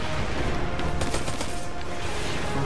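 Sniper rifle shots in a video game ring out as a short cluster of sharp cracks in the middle, set against a steady, dense wash of game noise with no talking.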